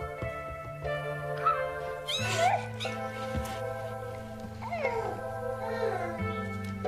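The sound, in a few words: kittens meowing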